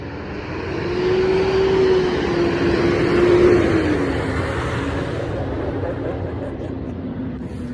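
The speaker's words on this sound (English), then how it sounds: "That's the recycling truck." A recycling truck with a front-mounted arm rumbles past on a street, a loud broadband engine roar swelling over a couple of seconds with a tonal whine, then easing off as it moves away.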